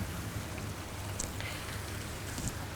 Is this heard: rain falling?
yes